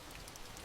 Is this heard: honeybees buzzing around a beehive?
no